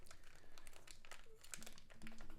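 Packaging around a silver coin crinkles and tears as it is ripped open by hand, a close, fairly quiet run of rustling and crackling bursts.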